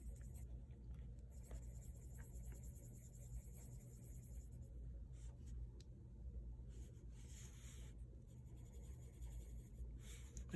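A pencil shades on paper with the side of its lead, blending gray into pink; a faint, steady, close scratching hiss over a low rumbling background hum.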